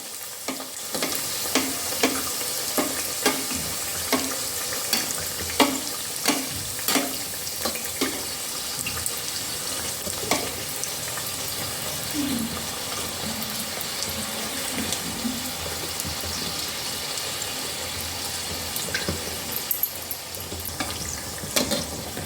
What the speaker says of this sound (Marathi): दोन्ही साईडनं करंजी तळून घ्यायची. करंजीवर तेल सोडायचं एका साईडनं.